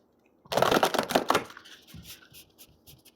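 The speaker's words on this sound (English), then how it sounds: "Go ahead and just shuffle this a couple more times." A deck of tarot cards is shuffled by hand: a loud, crisp riffling burst lasting about a second, then softer rustling and tapping as the shuffle settles.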